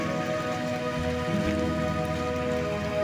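Steady rain falls across an outdoor rose garden, a continuous dense patter of drops on leaves and surfaces with no voices.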